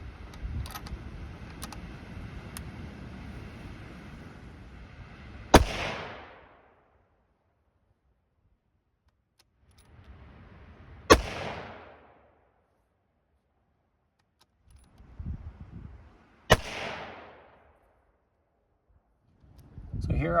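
Three single shots from a 6.5 PRC Tikka rifle at a 50-yard range, spaced several seconds apart, each a loud sharp crack with a short decaying echo. Someone talks between the shots.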